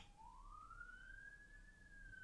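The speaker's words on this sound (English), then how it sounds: "I don't know if you can hear the sirens." A single faint siren wails in the distance, its tone sweeping slowly upward and holding high over a low background hum.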